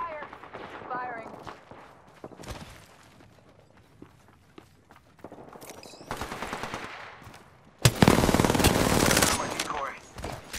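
Gunfire in the Apex Legends video game: bursts of rapid automatic fire and single shots, some near and loud, especially a heavy sustained burst near the end, with game effects and footsteps around them.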